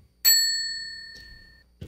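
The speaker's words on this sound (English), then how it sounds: "Let's have fun with the bell." A single bright bell ding rings out clearly and decays slowly over more than a second, followed by a faint soft clack and a brief low knock at the end.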